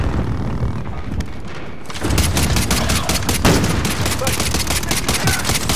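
Dense, sustained automatic gunfire and explosions from a Call of Duty Modern Warfare match, quieter at first and then a loud, rapid barrage of shots with booms through the rest.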